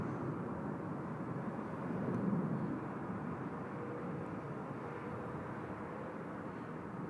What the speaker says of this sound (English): Asiana 339 just about to roll there on runway 16 left